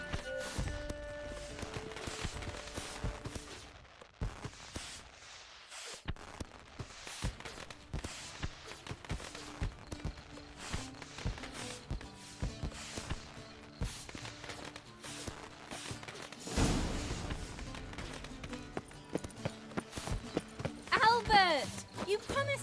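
Horse hooves clip-clopping in The Witcher 3: Wild Hunt, rhythmic thuds at a moderate distance mixed with game music, ambient effects and occasional talk.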